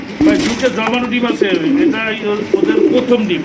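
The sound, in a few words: racer pigeons cooing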